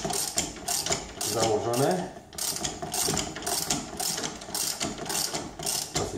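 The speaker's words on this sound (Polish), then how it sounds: "To jest taka grzechotka, którą jak się przyjmowałem w Anglii do pierwszej pracy kupiłem, najtańsza" A cheap ratchet wrench clicks rapidly and continuously while turning a brake line fitting on the rear of an Audi A3, loud and close, with a brief word spoken.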